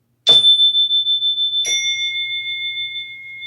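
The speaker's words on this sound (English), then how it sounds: "listen to the bell" An electronic doorbell-style bell chimes twice, two bright, clear tones struck about a second apart, each ringing on and fading slowly in an otherwise quiet room.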